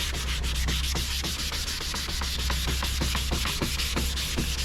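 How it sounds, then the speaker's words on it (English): Sandpaper scrubs a yellowed, oxidized plastic headlight lens in quick, regular back-and-forth strokes, a close, steady rasping rhythm heard alone. "I just sand it lightly"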